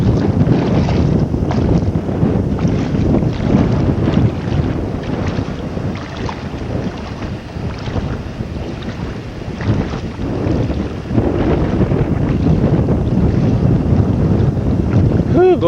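Headwind buffeting a kayaker at sea off Andros, a loud continuous rumbling wind roar over the microphone with water sloshing beneath, while a voice murmurs faintly now and then.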